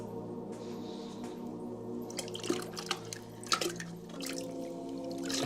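Clay slip and water are poured onto a pottery wheel during a throwing session. Soft drips and splashes come close by over a steady low hum, with a few sharper spatters.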